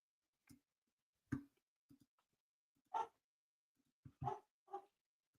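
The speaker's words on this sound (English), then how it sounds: "I wonder what Ghost is barking at." A dog barking several times at irregular intervals, with sharp, moderately loud barks separated by short silences and some softer yelps.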